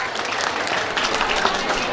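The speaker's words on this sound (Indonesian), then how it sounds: "Tepuk tangan dulu." Sustained applause from a large audience at a school gathering, steady and dense clapping for the whole stretch with some crowd murmur underneath.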